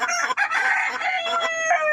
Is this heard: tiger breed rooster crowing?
yes